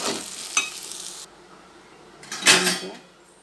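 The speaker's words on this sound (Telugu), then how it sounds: "ఒక స్పూన్ సరిపడ ఉప్పు మంచిగా కలపాలి" Salt being stirred into a pan of spine gourd curry, with two bursts of spoon scraping against the pan over a soft sizzle, the second longer and louder, and no talk.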